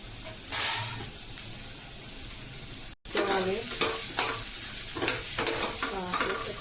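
Chopped onions and green chillies sizzle in hot oil in a pan while being stirred for a Telugu amaranth and chickpea curry, with a steady frying hiss, scraping stirs and a brief dropout midway.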